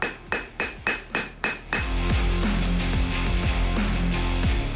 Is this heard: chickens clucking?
no